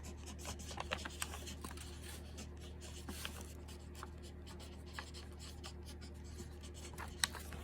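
Pen or pencil scratching across a paper foldable, a soft continuous scribbling rub with small taps, faint and close, no one speaking.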